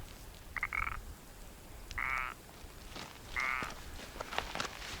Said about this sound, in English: Yeah, I guess it's a grasshopper.